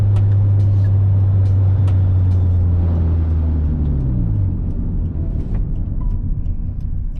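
A Hyundai Tiburon with an aftermarket sunroof drives toward the highway, a loud steady engine drone heard from inside the cabin, its pitch rising and shifting midway as it accelerates, with faint clicks and road noise.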